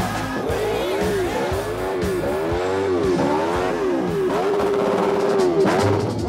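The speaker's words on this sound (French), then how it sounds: "une figure qui consiste à faire déraper la roue arrière d'une moto à l'arrêt" A motorcycle doing a burnout while stationary revs hard in repeated rising and falling surges, the spinning rear tire screeching against the ground, loud and close with a crowd murmuring faintly.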